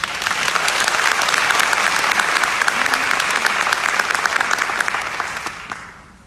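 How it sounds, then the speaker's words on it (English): A large audience gives a round of applause at a church-themed talk, a dense, even roar of clapping that stays strong before fading out near the end. "Let's give them a round of applause."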